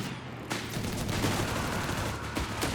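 Grenade explosions and gunfire in the Company of Heroes 3 strategy game, a dense, continuous barrage of rattling shots and booms, loud and close with no talk.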